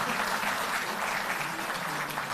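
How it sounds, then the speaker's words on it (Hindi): Thunderous applause from an audience at a Delhi political event, dense and continuous clapping that stays loud and even for the whole stretch, with no voices. "तालियों की गड़गड़ाहट में"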